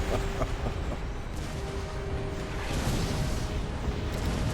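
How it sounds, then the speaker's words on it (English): Dense rumbling explosions from a Star Trek Armada 3 space battle, a continuous loud wash of booms and bursts layered over one another with no clear gaps. "It's a lot of explosions."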